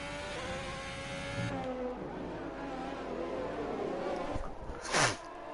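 Mercedes race car engine in a racing video game, a steady whirring drone with shifting pitch, ending in a sharp rising whoosh as a car sweeps close by near the end.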